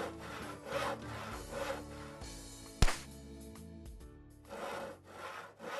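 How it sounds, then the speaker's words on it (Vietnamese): Wooden planks being sawn by hand in a cartoon workshop, a steady back-and-forth rasping rhythm over background music, with a sharp knock partway through. "Bác mèo cưa mấy mảnh gỗ này để làm chòi đựng rơm hả?"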